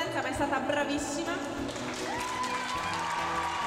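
Theatre audience applause after a performance of the musical Madre Teresa in the church of San Gioacchino in Prati, Rome, a continuous wash of clapping running under a voice talking and sustained musical tones.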